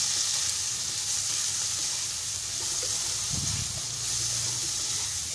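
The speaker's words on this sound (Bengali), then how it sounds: "সয়া চামচগুলো ভালো করে ভেজে নেব।" Soya chunks seasoned with salt and turmeric fry in a pan, giving a soft, even hiss of oil with slight stirring movement, close and fairly quiet, with no speech.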